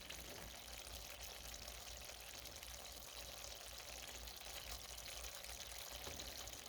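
Ground beef frying in a pan gives off a steady, quiet sizzling hiss that holds evenly throughout, with no talking.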